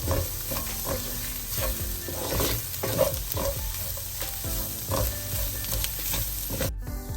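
A spoon stirs a turmeric-spiced mixture in a hot pan for prawn noodles, with close scraping strokes over a steady sizzle and no voices.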